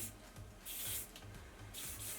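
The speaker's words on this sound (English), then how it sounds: "So it's a soft hold hairspray." Joico soft hold hairspray hisses out onto hair in short fine bursts, about three sprays with pauses between them, close and soft, with no talking.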